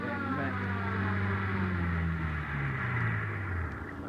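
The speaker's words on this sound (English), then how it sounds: "All right, hit the siren." A police car siren in an old radio drama wails continuously over a low engine rumble, its tone sliding downward as it sounds close and loud throughout.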